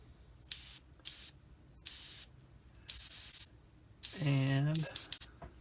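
An Iwata HPM2 airbrush sprays paint onto an Airfix 1/48 Spitfire Mk XII model kit in five short, close hissing bursts separated by pauses, with a brief tonal, voice-like sound near the end.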